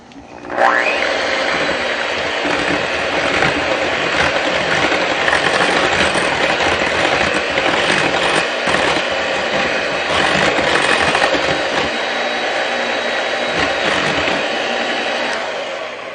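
Electric mixer whirring steadily through sweetened waffle batter, a continuous loud motorized drone that starts abruptly and holds for the full stretch with no voices.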